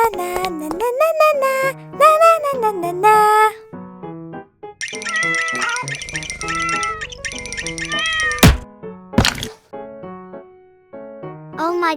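A cat meows repeatedly in a kitchen while a chocolate cake is being made, giving several clear, close, varied meows and squeaky cries with short pauses between them and no talk.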